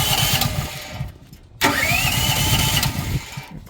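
A generator engine is cranked by a battery-powered electric starter, whirring, stalling briefly, then catching and running at a steady mid-pitched idle, close by with no talk.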